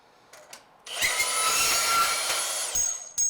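A Milwaukee M18 deep cut bandsaw slicing through EMT conduit, with a few light handling knocks and then a close, steady, high-pitched metallic cutting whine lasting about two seconds before it drops off and is followed by a clunk.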